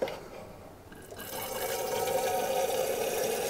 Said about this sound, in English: So just going to fill it with a bit of water first.